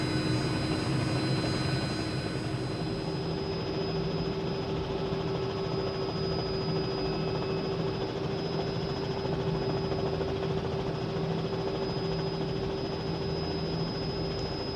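Steady turbine whine and rotor drone of a Cowansim R66 helicopter in Microsoft Flight Simulator 2020, loud and continuous, held at a constant pitch throughout with no voices.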